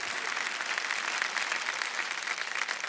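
Studio audience applause fills a Kaun Banega Crorepati game-show set, a dense, steady wash of many hands clapping close and loud throughout, with no break.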